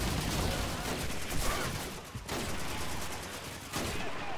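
Sustained automatic MG fire in the 2005 World War II shooter Call of Duty 2 on Veteran difficulty, dense loud bursts rattling almost continuously with a brief lull midway, no talk over it.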